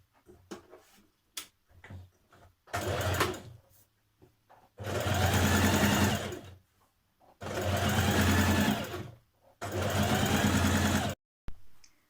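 Sewing machine stitching a line of trouser casing for elastic, running in several steady bursts of a few seconds each, separated by short pauses and small handling clicks.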